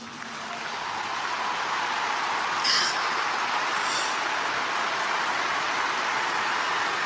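Crowd applause at a memorial event, a broad continuous roar of many people clapping that swells in and holds steady, heard from a distance with no clear voices.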